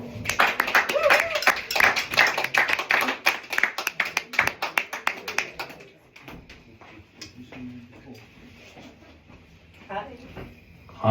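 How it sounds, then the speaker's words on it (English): A small audience at an evening performance gathering claps loudly and briskly for about six seconds, then the applause dies away into quieter room sound and talking. "Please, a round of applause for Marrron."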